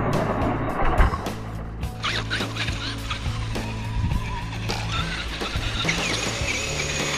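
A Traxxas Xmaxx RC truck drives through a sandpit, its electric motor whining and revving in bursts with tires churning sand, loud and close against steady outdoor background noise.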